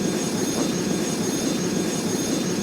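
A jet airliner rumbles steadily on a runway during a takeoff and landing sequence, a broad, loud, continuous engine roar with no talk.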